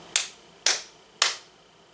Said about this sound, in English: Can you clap your hands like me?